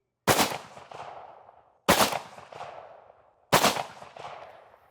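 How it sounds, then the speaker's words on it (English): A shotgun fires 3.5-inch steel shot shells at a table outdoors: three loud, sharp blasts spaced about a second and a half apart, each trailing off in a rolling echo. "So that was the first 3 shots"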